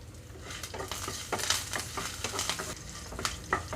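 Ginger pieces and curry leaves frying in hot oil in a pan for millet upma, a steady close sizzle and crackle with occasional spoon stirring scrapes, no talk.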